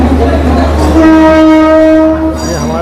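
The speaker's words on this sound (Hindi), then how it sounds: "हम अभी सुबह न्यू दिल्ली रेलवे स्टेशन पर पहुंच चुके हैं।" A train at New Delhi railway station sounds a loud, sustained horn over the rumble of rail traffic, close and dominant throughout.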